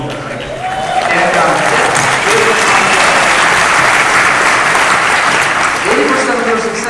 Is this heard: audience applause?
yes